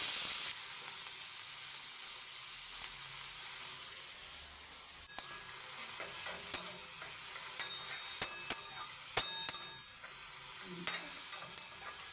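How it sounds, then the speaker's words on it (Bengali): Dhenki greens with black cumin fry in a pan with a steady broadband sizzle, while a series of sharp clicks and scrapes from stirring punctuate the second half. "কালো জিরে পুরন দিয়ে ঢেঁকি শাকটা দিয়ে ভালো করে ভেজে নেব"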